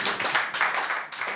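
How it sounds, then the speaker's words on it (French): A village crowd applauding its newly crowned beauty queen, dense close clapping from many hands, steady and continuous throughout. "Acclamez, là."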